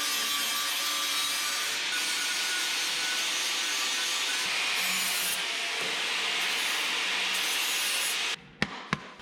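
A flap disc on an angle grinder sanding down the cut edge of metal on a Harbor Freight welding cart, giving a loud, steady abrasive rasp that stops near the end, followed by a few sharp clanks.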